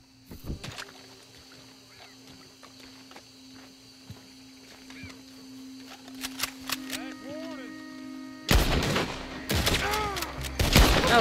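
Gunfire in Red Dead Redemption 2, a few sharp shots early and then dense bursts of loud shooting near the end, mixed with game ambience and a person talking.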